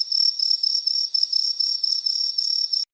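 Crickets chirp continuously in a high, steady trill, loud and close, with nothing else audible.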